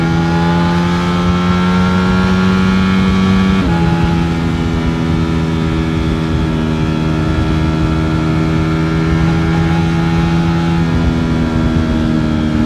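Steady, loud drone of a Ducati motorcycle engine while riding on the road, with a brief shift in pitch partway through and constant wind rush, no talking.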